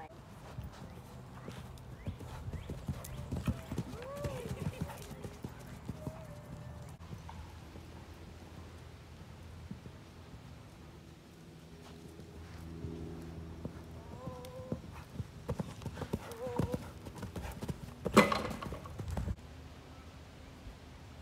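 A ridden horse canters on a first ride, its hoofbeats thudding in a quick repeating rhythm at moderate distance, with a few snorts and people talking softly throughout.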